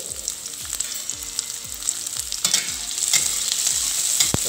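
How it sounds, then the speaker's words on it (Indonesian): Chili, egg and turmeric fry in hot oil for a crab curry, a steady close sizzle with a regular rhythm of spatula strokes scraping the pan, growing slightly louder toward the end. "Kita goreng sampai bau dan melayu."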